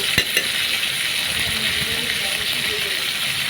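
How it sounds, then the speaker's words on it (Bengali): Onion, garlic, cumin and ginger paste spices sizzle steadily in a hot pan while being stirred, a continuous bright frying hiss with a couple of faint utensil knocks near the start. "একটু নাড়াচাড়া করে নিব মশলাটাকে"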